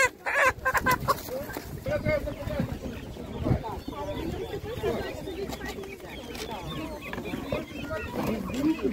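Rooster and hen at an outdoor animal market, with bird calls and clucking heard amid steady crowd noise and people talking close by.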